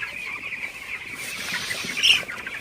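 Broiler chickens on a poultry farm give soft, continuous clucking and murmuring at moderate distance, with a brief sharper cluck near the end over a steady hum.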